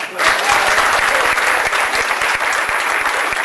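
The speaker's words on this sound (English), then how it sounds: "Megan Ortiz, give her a round of applause" Sustained applause from a room full of people, dense rapid clapping that starts abruptly and stays loud and steady throughout.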